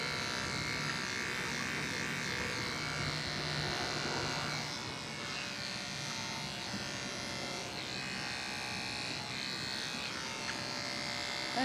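Electric clippers shave the hair from a dairy goat's udder after milking. The buzz is close and continuous, wavering slightly as the clippers move over the udder.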